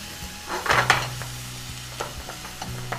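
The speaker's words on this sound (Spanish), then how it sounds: "Ya, vamos a revolver." Half an onion with garlic sweats in a pan for chicken and mushroom risotto, stirred with a wooden spoon: soft scraping strokes and light knocks against the pan over a quiet sizzle, close up.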